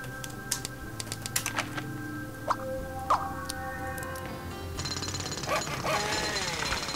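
Repeated hammering on a building being rebuilt in the Scribblenauts video game, sharp knocks spaced irregularly at first, then a denser busy stretch of clatter in the second half, moderately loud with no talk.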